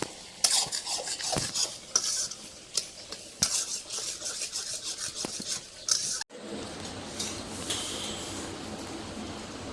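Taro greens are worked together with spices by hand, giving repeated close rubbing and scraping with sharp clicks against a pot or bowl. A steadier, softer rustling follows after a brief break.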